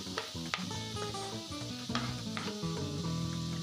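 Squash (kalabasa) sautéing in a frying pan with garlic, onion and ginger: a steady sizzle with scraping stirs and metallic clinks of a utensil against the pan, close and clear.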